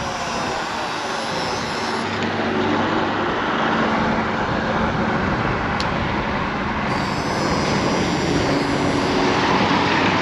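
A Nami Klima electric scooter races along at high speed, producing a loud, steady rushing roar of wind and road noise with a faint motor whine beneath, constant for the whole stretch.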